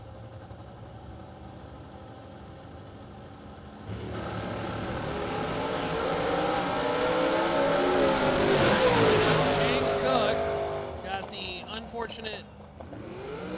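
Drag racing dragster engines idle at a strip, then rise into a loud, rough revving roar that peaks and fades, while an announcer talks over the PA.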